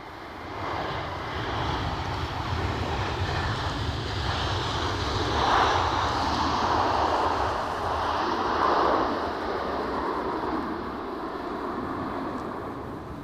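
An EasyJet jet airliner moves at Edinburgh Airport, its engines producing a steady, moderately distant roar that swells and eases slightly over the stretch, with no talk over it.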